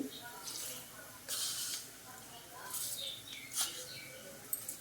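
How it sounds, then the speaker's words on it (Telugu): Mustard seeds splutter and crackle in hot oil along with peanuts for a tempering, in scattered bright popping bursts, fairly faint, with someone talking quietly alongside. "ఆవాలు వేస్తున్నానండి"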